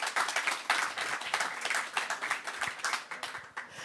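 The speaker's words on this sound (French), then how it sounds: "Anne-Jean Blanc, journaliste au Point, sous vos applaudissements, mesdames, messieurs." A conference audience claps steadily, a dense patter of many hands that swells early and then tapers gradually, with no speech over it.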